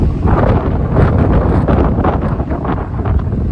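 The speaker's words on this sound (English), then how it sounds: "it's windy. Hopefully you can hear." Strong wind buffets the microphone in a loud, continuous rumbling roar with gusty surges and no other clear sounds.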